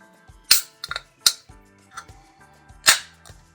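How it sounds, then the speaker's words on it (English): A can of Spyglass Radial Burn triple IPA is cracked open and poured into a glass, heard as a few sharp, separate snaps and clinks with faint ringing and quiet gaps between them. "Let's go ahead and crack it open, give it a pour."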